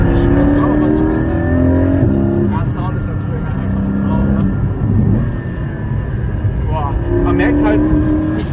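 Porsche 718 Cayman GT4 with PDK gearbox driving on a night ride through the Odenwald, steady engine drone and road noise continuous and fairly loud throughout, with shifting engine tones, no talk.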